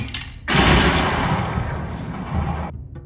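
A single loud gunshot from a duel in the film John Wick: Chapter 4 bursts out, followed by a long, roaring wash of noise that fades away after a couple of seconds.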